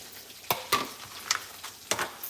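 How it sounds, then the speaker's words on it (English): Fish frying in a pan with a soft sizzle, broken by several sharp scrapes and clinks of a utensil stirring and turning the pieces, close and fairly quiet with no talk. "These last couple of fish are frying"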